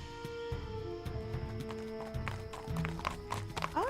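A horse's hooves pound in a quick galloping rhythm in the video game Yesterday Origins, moderately close under a musical score, ending with a brief rising whinny-like call.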